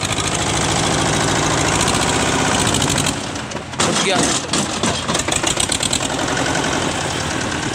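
Tractor engine labouring under a load of 80 quintals of sugarcane runs loud and close with a dense, steady clatter, briefly dipping and surging as the load lifts; someone speaks over it.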